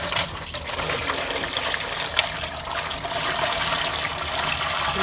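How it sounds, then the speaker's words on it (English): Water pours steadily into a pressure canner loaded with jars of moose meat, a continuous close splashing and trickling rush with no talk over it. "Start putting some water in."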